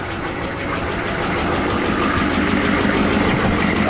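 A 1995 Suburban's 6.5-litre diesel engine idles steadily after a cold start, having sat over two years, with a rough, knocking clatter, close and continuous, with no voices over it.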